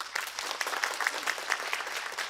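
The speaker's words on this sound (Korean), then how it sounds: "잠깐 인사하시고 또 박수하도록 하겠습니다." Church congregation at a Sunday worship service clapping to welcome newly appointed members, a moderate, fairly close patter of many hands with a few sharper individual claps, no voices.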